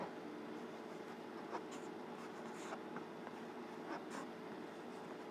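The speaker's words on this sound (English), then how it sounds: "I'm going to go ahead and do a rough sketch of the coordinate grid that you have" A pen or pencil scratches steadily across paper while a coordinate grid is sketched by hand, producing continuous close scribbling strokes with a few short line-drawing bursts, no talk.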